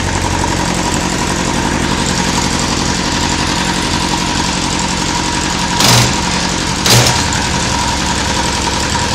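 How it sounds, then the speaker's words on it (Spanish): A Honda Sevenfifty motorcycle engine idles loud and steady with a constant mechanical rumble, interrupted by two brief clunks as the gearbox is shifted. "es un motor que suena bien, que arranca sin problemas, sube muy bien de revoluciones"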